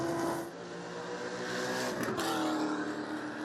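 Touring-class race cars at the 2016 SCCA Runoffs roar under hard acceleration, a loud, dense engine drone with rising pitch as a car climbs through the revs, continuous and close throughout.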